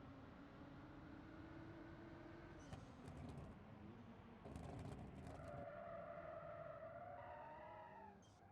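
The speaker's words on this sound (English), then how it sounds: "So as you can hear, it's a very quiet V8 engine, turbocharged." A Hillmaster four-wheel drive with a quiet turbocharged V8 engine drones steadily at low pitch, then rises in revs with a higher whine toward the end, with a few short bursts of noise along the way.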